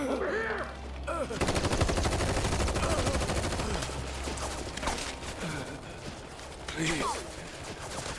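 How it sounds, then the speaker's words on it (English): Bursts of gunfire from soldiers attacking in Final Fantasy VII Rebirth, dense crackling shots layered over game music and effects, with a voice speaking briefly at the start. "They just showed up and started shooting."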